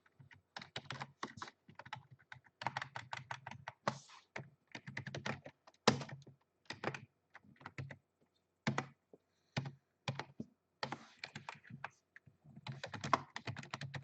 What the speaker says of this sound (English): I will just type here system.println.